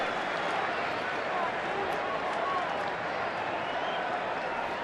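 Baseball stadium crowd at a Giants versus Dodgers game, a dense, steady roar of cheering and noise filling the whole stretch with no pauses, loud and continuous.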